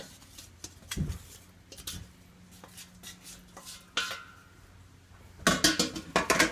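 Cooked, drained penne pasta tumbles into melted butter in a pot, followed by scraping and stirring, with a louder run of clattering, wet stirring near the end.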